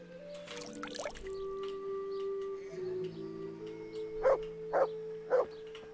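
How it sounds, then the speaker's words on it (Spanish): Dog barking in the medieval video game Kingdom Come Deliverance, three short barks near the end over a steady droning game soundtrack, moderately close and fairly faint. "el perro que no sabe ladrar"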